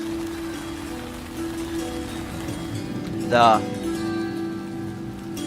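Steady rain falls with an even, close hiss and a low hum underneath, and a voice cuts in briefly partway through.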